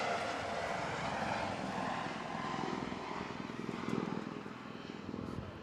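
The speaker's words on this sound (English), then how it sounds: "we're going to have a landing of a helicopter on the field" A helicopter landing on a soccer field beside a girls' high school game gives a steady, droning engine and rotor roar that swells slightly and then settles, continuous throughout.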